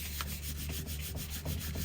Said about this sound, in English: Rub really hard.